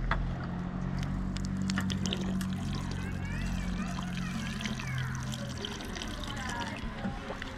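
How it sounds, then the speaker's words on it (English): A stream of water gushes and splashes from a drinking fountain along the Camino pilgrimage route, a steady close pouring with a low hum beneath and a person talking over it. "And here's actually a water fountain."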